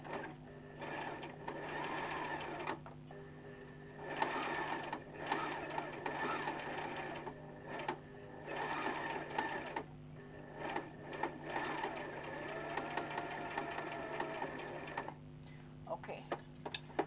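A Brother LS14 sewing machine stitches a buttonhole in rapid bursts of needle clatter separated by short pauses, close and moderately loud, keeping a fast mechanical rhythm.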